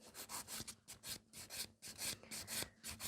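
A fingernail surface scratched before the top coat in quick rasping strokes, a rapid irregular series of close, soft scraping rubs.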